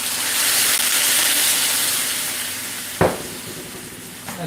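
Carrots sizzle in a hot pan with a steady close hiss, and a burst of sizzle comes midway as water is added. The sound then settles into a softer simmering hiss.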